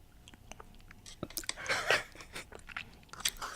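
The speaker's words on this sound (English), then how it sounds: "This is the yogurt eating ASMR though." Close-miked yogurt-eating ASMR: wet, smacking chews and small crunchy bites in an irregular patter, quiet and up front with no talking.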